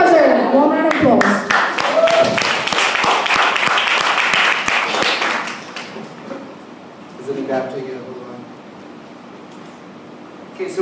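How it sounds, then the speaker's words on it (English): Applause at a live music night rises quickly and holds for several seconds as a dense wash of clapping, then fades to scattered claps and low crowd murmur with voices. "one round of applause."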